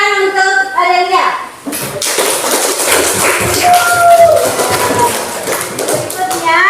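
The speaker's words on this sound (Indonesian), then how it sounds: "Beri tepuk tangan untuk Adelia." Children in a classroom clap for a classmate, a burst of quick, uneven hand claps with thumps, starting after a brief moment of a voice and continuing steadily with young voices mixed in.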